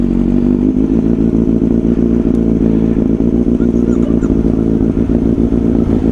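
A motorcycle engine idles and revs steadily up close, a loud, continuous low rumble with a throbbing beat; the bike is among a Kawasaki Z900, KTM Duke 790, Honda Rebel 500 and Bajaj Dominar 400.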